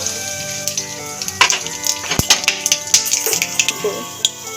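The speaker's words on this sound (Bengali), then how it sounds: "ফোড়নটা ভাজা হয়ে গেছে" Whole spices such as black cumin, cloves, cardamom and cinnamon frying in hot oil for tempering, a steady busy sizzle with scattered pops and crackles close by, no talk.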